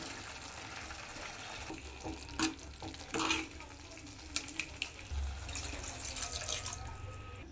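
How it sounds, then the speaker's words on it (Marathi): Water splashes into a hot pan of frying vegetables with a burst of hissing, followed by stirring scrapes and light sizzling that continue close up. "थोडंसं पाणी घालायचं"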